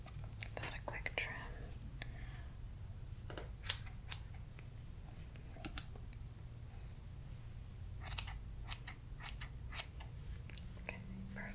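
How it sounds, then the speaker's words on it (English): Scissors snip hair ends in a cosmetology-student ASMR haircut, a run of crisp, close, soft snips scattered irregularly over a quiet background hum, with faint whispered voice in places. "Just going to give that a quick trim."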